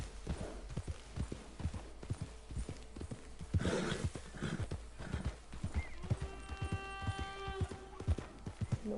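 A horse gallops in the video game Red Dead Redemption, a rapid, steady clip-clop of hooves with a whinny partway through and game music rising near the end.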